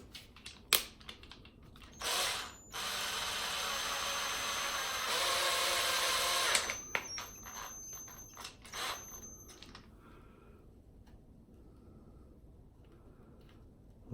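A small drill bit worked by hand into a poly hairline to make tiny air vents, with sharp clicks and two sustained grinding bursts, then a series of short ticks and scrapes fading to quiet.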